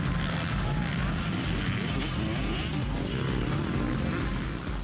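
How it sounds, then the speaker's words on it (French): Motocross motorcycles roar continuously at a night race in Laguépie in 2015, a dense, loud engine drone from several bikes with a commentator's voice running over it. "c'est Mansé, le 402, qui accélère devant le 516 Melvin Ferro."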